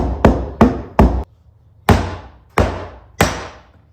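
Sharp, ringing hammer blows on a metal part during fuel pump work on a Saab 9-3, six strikes in two uneven bursts with a short pause between, close and loud.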